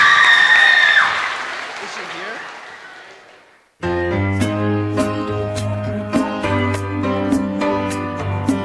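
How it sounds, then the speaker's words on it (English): An audience at a school music festival claps loudly for a few seconds, the applause fading out before music begins. "Can we have a round of applause for her?"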